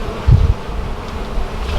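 Dense, steady buzzing of honeybees swarming around a hive built inside a yucca tree, close and loud, with a brief stronger low swell near the start.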